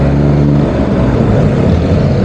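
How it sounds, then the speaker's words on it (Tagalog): Road traffic rumbles steadily and loudly, a continuous low engine drone from passing vehicles with no voices. "Traffic."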